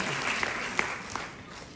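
Short, scattered clapping from an audience at a Sangathan Se Samriddhi Abhiyaan launch event, a few distinct claps over a soft crowd murmur, fading quickly.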